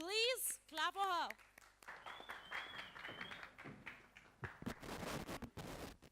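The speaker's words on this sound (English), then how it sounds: "please clap for her." Scattered applause from an audience at a short film screening, rising into fuller clapping toward the end, following a few seconds of amplified voice and music.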